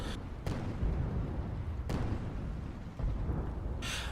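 Heavy ship guns and a Hwacha rocket battery boom during an airship battle, several deep, spaced blasts rolling over a constant rumble, fairly loud and echoing.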